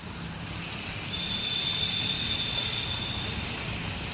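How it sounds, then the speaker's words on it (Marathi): Heavy monsoon rain pouring in Virar, a dense steady wash of falling water that swells slightly and holds, with a faint high whine running through the middle. "पाऊस भरपूरच आला आहे"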